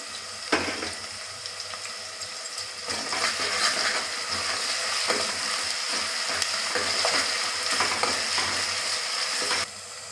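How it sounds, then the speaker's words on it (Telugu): Ginger frying in hot oil for a Telugu mutton bagara curry, a steady close sizzle with scattered crackles and stirring clicks, louder after the first few seconds and running without speech until it stops near the end. "నూనెలో మళ్ళీ అల్లం వేసుకోవాలండి"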